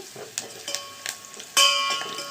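Seasoning for tomato rasam sizzles in a pan, with a low crackling bed and several spoon scrapes and taps, the loudest coming near the end as the mixture is stirred.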